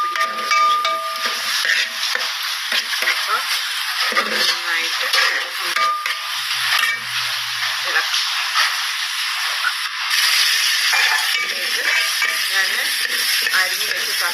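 Tomatoes stirred into a country-style beef curry in a pan, with a steady sizzling hiss and a spoon scraping and clinking against the metal throughout.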